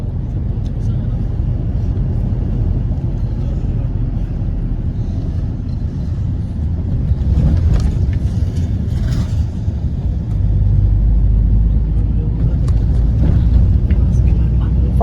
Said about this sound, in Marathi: नाशिक स्टेशनच्या बाहेरून 200 रुपये शेअरिंग टॅक्सी केली आहे